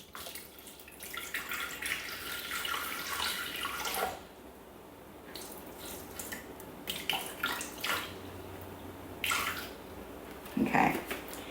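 Water is poured into a Thermomix bowl in a kitchen, a soft trickling stream with splashes that comes and goes in short runs and stays faint and close.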